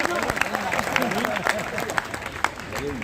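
Audience applause at a Hindi kavi sammelan comedy poetry recital, a crowd clapping steadily while voices and talk carry on over it.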